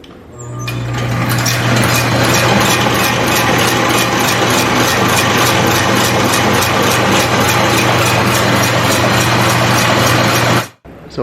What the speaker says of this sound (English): In order to fly, you need a light engine.